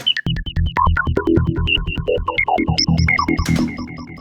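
Viper synthesizer atmosphere patch with rapid repeating pulses and bright tones shifting pitch in a swirling, psychedelic sequence, loud and continuous with no voices.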